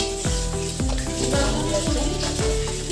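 Food browns in a hot pan in a home kitchen, with a steady, close sizzle of frying and a regular series of stirring scrapes and knocks roughly every half second.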